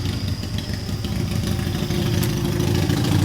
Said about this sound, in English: listen to my neighbor's new motorcycle as he comes by